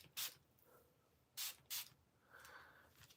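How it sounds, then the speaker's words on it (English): Dream Coat by Wow hair product sprayed from a bottle onto hair edges: three short, close, faint spray bursts, the first alone and the last two in quick succession, with a softer hiss afterward. "Go ahead and spray that on these little edges"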